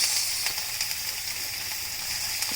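Finely chopped ginger, green chili and garlic dropped into a cumin-seed tadka in hot oil, giving a steady close sizzle with small crackling pops.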